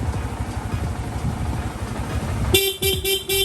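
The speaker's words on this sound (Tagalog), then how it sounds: "Okay, busina, stock horn." A Sniper 150 motorcycle engine idles with a low rumble, then its stock horn beeps four quick times, loud and close.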